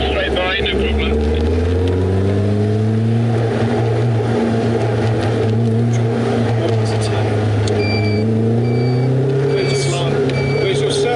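A Caterham 420R sports car passes on a road in Spain, its engine giving a loud, close drone that sweeps up and down through the gears. Voices talk over it.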